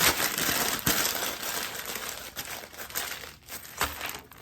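Paper crumpled and crinkled by hand while preparing a gift basket, a continuous close rustling with sharp crackling peaks throughout.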